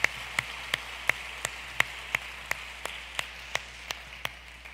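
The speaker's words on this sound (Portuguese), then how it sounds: "você pode aplaudir o Senhor." In a church service, the congregation applauds in praise of the Lord. Sharp, evenly spaced claps come about three times a second over a soft, steady wash of distant clapping, with no voices over them.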